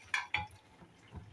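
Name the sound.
potatoes being added to a pot while cooking with dried fish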